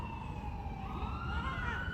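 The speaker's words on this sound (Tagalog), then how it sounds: "Yan, may ambulansya." Ambulance siren wailing steadily nearby, its rising and falling tone held over the rumble of traffic for the whole stretch.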